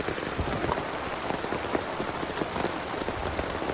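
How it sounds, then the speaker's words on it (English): Steady rain patters on a Napier truck tent in the early morning, a continuous dense hiss of drops drumming close on the fabric with no voices. "about 4:30 this morning, we woke up to rain."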